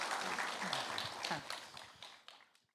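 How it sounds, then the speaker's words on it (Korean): Audience applause at a book launch and documentary screening, warm clapping from a crowd that thins out and fades toward the end, with a few scattered late claps. "뜨겁게 박수 부탁드립니다"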